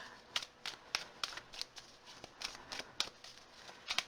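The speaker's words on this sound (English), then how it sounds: "I'm still shuffling and we're 30 seconds in." Druidcraft tarot cards being shuffled by hand: a steady series of crisp, papery riffles and slaps, close and fairly quiet, repeating every fraction of a second with no voice over them.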